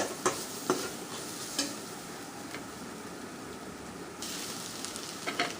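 Spiced kaju green rice masala stirred in a pan, a soft continuous sizzle broken by a few sharp spoon taps and scrapes, close and fairly quiet.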